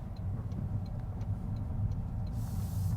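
A Mazda2 Hybrid facelift drives slowly through a tight turning circle, with a low, smooth engine and road hum heard from inside the cabin, steady and fairly quiet, plus faint ticking clicks.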